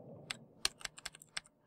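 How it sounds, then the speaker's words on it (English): Rapid clicking of a computer keyboard during play of the game Terror Lab, a short burst of crisp, close keystrokes in an uneven rhythm over a low background hum. "That's me clicking away"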